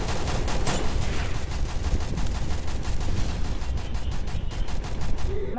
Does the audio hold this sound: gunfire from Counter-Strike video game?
yes